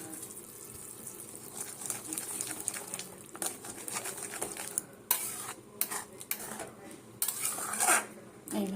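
Semolina and vegetables are stirred in a pan for upma, a spoon scraping and clinking against the metal in irregular strokes over a faint sizzle, close and moderately quiet, with no talk.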